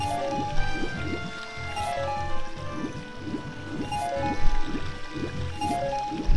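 Link swimming in the moat water in the video game Ocarina of Time, rhythmic splashing strokes repeating at an even pace over game music.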